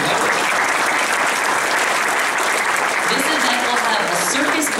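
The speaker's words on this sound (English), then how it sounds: "Applause for Vanna White" A variety showcase crowd claps loudly and steadily, with a thick wash of applause throughout and faint voices and cheers rising near the end.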